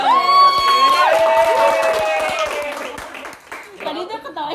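A dance crew claps along in a group, sharp uneven claps under excited whoops, cheering and loud overlapping voices.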